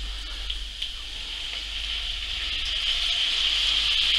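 Port poured into a hot pan of cooking shallots sets off a steady sizzle and bubbling hiss that grows slightly louder and stays close and continuous.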